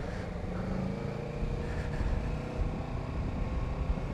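Steady engine drone and wind rush heard while riding a motorcycle at night, a continuous moderate roar with slight swells and no talking.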